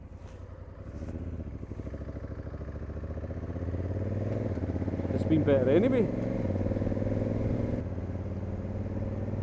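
A Honda CRF1100 motorcycle fitted with an aftermarket exhaust hums with a steady, low engine drone that swells slightly midway, running continuously beneath someone talking.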